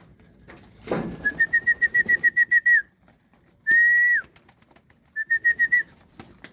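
Hungry pigeons being fed give a bright whistling call in quick repeated bursts, then one long held note and a shorter series, fairly close with a brief rustle or flap near the start.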